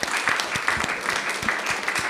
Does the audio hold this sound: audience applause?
yes